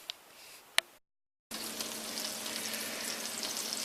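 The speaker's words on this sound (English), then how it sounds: "Now I'm gonna go check my potatoes and bacon." Potatoes and bacon frying on a weak-flamed gas grill: a steady, close crackling sizzle that fills the second half after a short silence, preceded by faint sizzling and a single sharp click.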